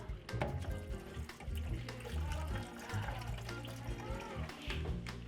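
Running water from a tap splashes steadily as fresh, cleaned anchovies are rinsed by hand in a home kitchen sink. A faint voice is heard under the water.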